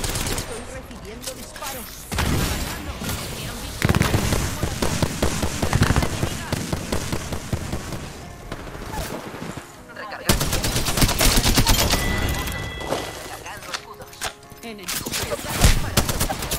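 Dense automatic and rapid gunfire from the video game Apex Legends, loud bursts with short gaps, with in-game sounds and effects throughout.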